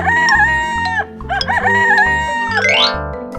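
A rooster crows loudly and up close, two long drawn-out calls over a soft bouncy music bed, ending with a bright rising chime.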